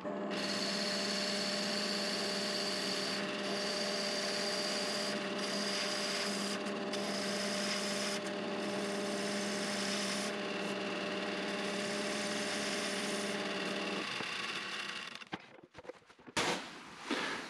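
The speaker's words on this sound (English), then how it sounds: "I believe I can do a better job just using my bowl gouge" Wood turning on a lathe with a bowl gouge, a steady close hum and whir with a continuous scraping hiss that stops near the end, followed by a few loose knocks.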